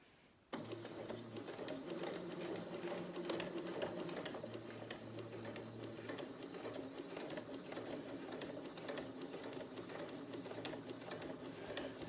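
Sewing machine stitching pleats on a fabric face mask, a fast, even mechanical chatter running continuously and close after a quiet start.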